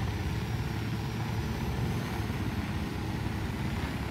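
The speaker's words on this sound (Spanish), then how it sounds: "Este helicóptero que tengo yo es demasiado rápido para que él pueda huir." A helicopter in the video game Ghost Recon Wildlands, heard as a steady, low rotor and engine drone that holds at an even level throughout, fairly quiet and unbroken, with no voices.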